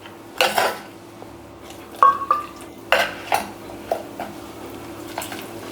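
A metal spoon stirs dry fish and raw mango curry in a pot, sharp clinks and scrapes against the side in irregular bursts with quiet gaps between, close and clear.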